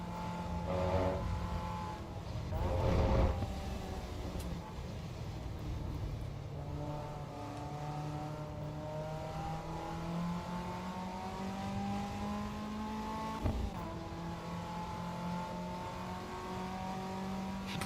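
Race car engines in the racing sim AC EVO roar continuously through a race start, with several cars revving and shifting up as their pitch climbs steadily, loud and close, with no talking over them.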